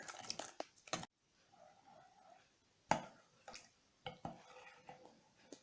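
Ingredients for potato doughnuts being combined in a bowl, with sharp utensil clinks and scraping against the bowl in uneven bursts, quiet between strokes.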